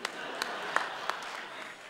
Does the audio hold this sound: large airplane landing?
no